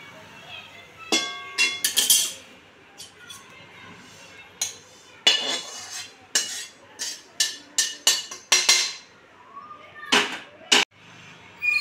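Roasted rice poured and scooped into a metal parat, giving irregular bursts of dry rattling grains and metallic clinks against the plate, fairly close, separated by short quiet gaps.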